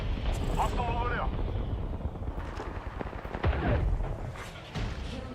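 Gunfire in the video game Fortnite: repeated loud shots and booming impacts over a dense, busy game soundscape, with a character voice speaking partway through.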